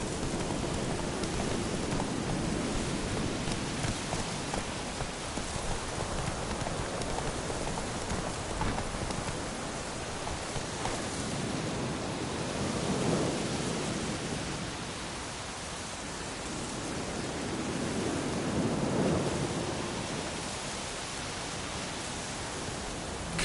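Steady hiss of rain in The Witcher 3, a dense, even downpour with slow swells in intensity over about twenty seconds; no distinct thunder clap stands out.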